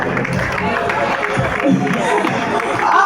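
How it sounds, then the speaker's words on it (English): An audience claps and cheers at a farewell party for a US consulate official. The applause is dense and sustained, with crowd murmur and voices mixed in throughout. "Round of applause for them."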